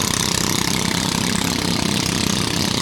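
A tuned boat engine idles on the Mekong River, a steady, loud, rapid mechanical putter that stays constant and close throughout.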